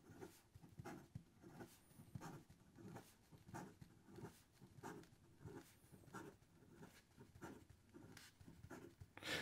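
Fast scratchy strokes of a Nahvalur Voyage fountain pen with a fine nib writing quickly on paper, close and quiet, in a steady rhythm of repeated short scrapes.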